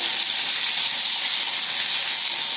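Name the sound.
sautéing potato and vegetables in a kadhai for pulao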